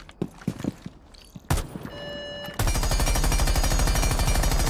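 Maverick's rifle with an extended barrel firing in Rainbow Six Siege, scattered shots and clatter giving way to a loud, sustained rapid burst of automatic fire, close and alone with no talk.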